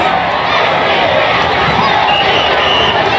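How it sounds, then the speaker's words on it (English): Parade crowd at the 2018 Golden State Warriors championship celebration yelling and chanting MVP for Steph Curry, a dense, loud, continuous roar of many voices with no pauses. "They just in unison just start yelling things and getting an MVP chant"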